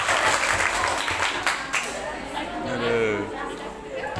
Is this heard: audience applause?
yes